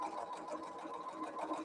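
A sewing machine stitches a seam in a steady, continuous mechanical whir, close and moderately quiet, running alone without talk.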